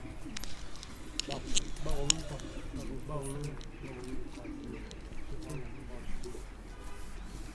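Elvan pigeons coo in low, throaty murmurs close by, mixed with someone talking and a few light rustles and taps.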